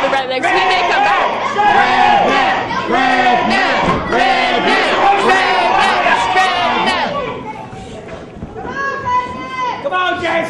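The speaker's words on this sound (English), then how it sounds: "Everyone's still cheering for the Rednecks." A packed crowd at a 2011 professional wrestling match cheers and shouts continuously, loud and close, with a dense roar of overlapping voices that eases slightly toward the end.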